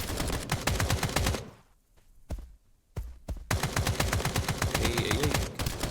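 Rapid bursts of automatic gunfire from a boss in the shooter game Escape from Duckov hammer loudly, break off briefly with a few isolated shots, then resume in a dense continuous stream.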